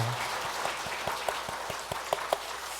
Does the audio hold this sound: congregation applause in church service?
yes